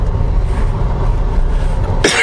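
A single sharp cough, close and loud, comes near the end after a steady low rumble inside a vehicle during a food-delivery run.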